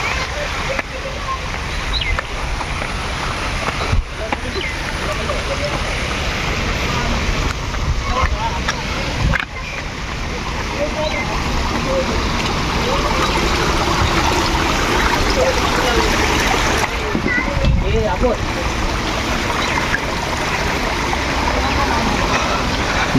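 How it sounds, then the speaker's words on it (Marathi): The Gawli Dev waterfall near Ghansoli roars with a continuous, close rush of falling water, while people talk faintly at times beneath the steady noise. "बघू शकता मित्रांनो वॉटरफॉल"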